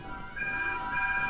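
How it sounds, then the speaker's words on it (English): A telephone rings during a PS2 gameplay session of Madagascar: a steady electronic ring continues through the whole short stretch, moderately loud, with no talking. "the phone is ringing"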